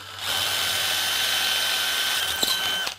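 A power drill at speed three with a Spyder Mach Blue Stinger split-tip bit cuts steadily, a sustained whine with faint clicks near the end as it finishes.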